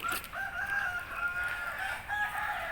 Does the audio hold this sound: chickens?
yes